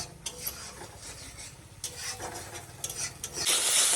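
Spice paste stirred and fried in oil in a pan for a small-fish curry, with close, repeated scraping stir strokes over a soft, steady sizzle and a louder burst of frying near the end.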